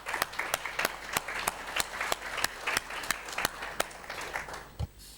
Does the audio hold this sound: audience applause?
yes